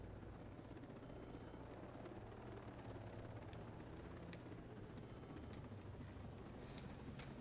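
A helicopter in Ghost Recon Breakpoint makes a steady, faint rotor drone with a low rumbling throb that holds throughout, distant and muffled with no talk over it.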